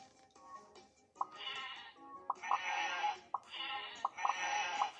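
Sheep bleat in the Teach Monster educational video game, a series of clear, close, wavering cries in quick succession, with no talking.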